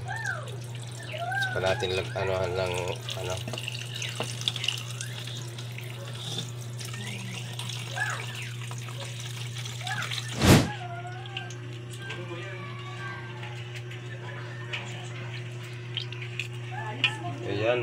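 Water running steadily from a kitchen tap over cooked chicken feet to cool them, a close constant splashing stream with a low hum beneath, a brief clatter midway, and someone talking over it.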